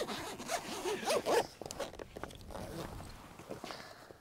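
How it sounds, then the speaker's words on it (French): A camper awning mounted on a 4x4 being unzipped and unrolled, a loud quick zipper pull up close followed by softer fabric rustling and handling sounds. "Ça c'est notre auvent. C'est très pratique aussi et très simple à ouvrir."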